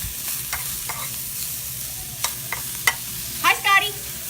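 Mushrooms fry in sesame oil with a continuous soft sizzle, broken by a few sharp stirring clicks and scrapes near the end. No one speaks.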